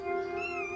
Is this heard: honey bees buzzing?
no